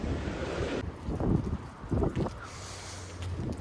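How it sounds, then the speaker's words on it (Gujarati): Strong, cold wind buffets the microphone outdoors in gusty roaring bursts, loud and close, with no talk over it. "જોરદાર પવન છે."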